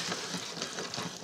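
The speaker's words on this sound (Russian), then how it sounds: "уже кипение масла, потому что оно полностью растоплено" Fully melted butter boils and sizzles in a frying pan while making a butter sauce, giving a dense, continuous crackling hiss with small popping bursts, close and steady.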